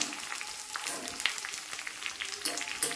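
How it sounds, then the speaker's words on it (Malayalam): Curry leaves, dried red chillies and shallots fry in oil for a mango pulissery, giving a soft, continuous crackling sizzle with light bursts of spattering. No one speaks. "കറിവേപ്പിലയും വറ്റൽമുളകും ചെറിയ ഉള്ളി എല്ലാം നന്നായിട്ട് മൂക്കട്ടെ."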